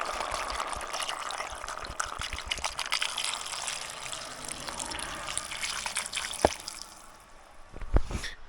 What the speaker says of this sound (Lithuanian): Dabar pilsam vandeniuką